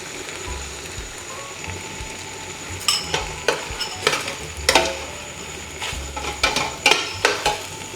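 Eggs go into a pan of sautéed ampalaya and fry, a steady close sizzle with clattering utensil scrapes and stirring knocks coming in bursts.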